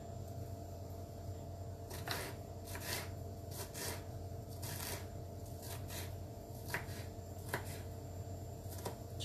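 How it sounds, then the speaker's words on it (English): Yellow peppers chopped with a knife on a board: a series of crisp, close cuts landing in small irregular bursts over a steady background hum. "And now I'm cutting up my yellow peppers."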